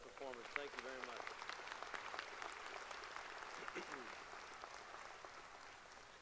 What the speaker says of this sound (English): How about a big round of applause for our student musicians and their performance?